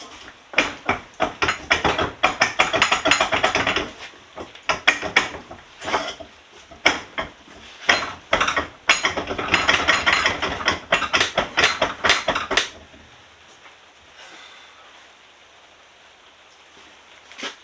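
Yamaha XJR1300 motorcycle front fork clamped in a workshop vise and worked back and forth, giving close, loud metallic clunks and knocks in bursts for about twelve seconds, then fading to a quiet shed hiss.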